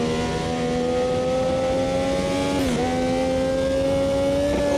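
Brabham BT46B fan car in Automobilista 2, its engine droning steadily at high revs from close by, with one brief dip in pitch partway through before it climbs back up.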